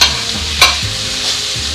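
Vegetables, squash and onion, sizzle and frying in a hot pan while being stirred, with a loud scrape of the spoon near the start and steady close-up crackle throughout.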